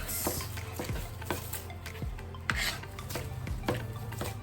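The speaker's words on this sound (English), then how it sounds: "So I'm just cutting up some green pepper" Knife chopping green pepper on a cutting board, a series of close, fairly quiet, rhythmic taps and scrapes about twice a second, with no talking.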